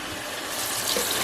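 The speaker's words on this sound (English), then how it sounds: "So first thing I do is I rinse it a few times until the water is clear" Parboiled rice is rinsed in water at a sink, with a steady broadband rush of running and swirling water heard close up and without talk.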